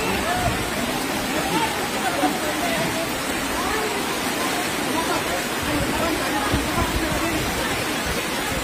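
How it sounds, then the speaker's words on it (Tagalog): Strong floodwater current rushing during a flood in Northern Samar, a loud, unbroken roar of churning water that stays constant throughout, close and dense, with no clear voices over it. "Sobrang lakas ng current."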